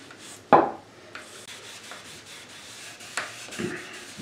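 Soft cloth rubbing wood finish onto the body of a Harley Benton DC guitar kit, a faint close brushing and scuffing with a sharper knock near the start and another later.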